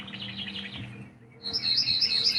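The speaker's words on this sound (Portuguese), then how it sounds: "vamos aproveitando o canto dos passarinhos" Small birds sing outdoors, a thin chirping warble that breaks off, then returns as brighter, higher trills, moderately close with no voices.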